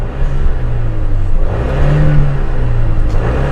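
A Mini JCW hot hatch engine revs in a muted way, with a low rumble swelling in the middle and easing back down, fairly close and with no talk over it.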